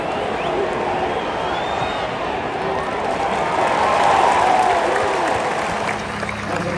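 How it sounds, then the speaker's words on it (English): A stadium crowd at an NFL game at MetLife Stadium stands and claps, a steady roar of applause and crowd noise, loud and sustained throughout with cheering swelling in the middle. "We're all standing up and clapping"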